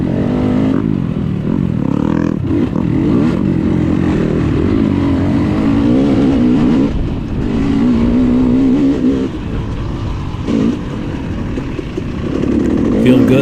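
A KTM 300 dirt bike races in a hare scramble, its loud engine droning and revving close up for the whole stretch, rising and falling with the throttle, with a few dips in volume.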